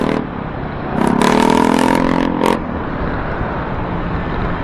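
Motorcycle ridden on a road near San Pablo City, engine note rising for about a second and a half mid-ride over steady wind and road noise, with no talking.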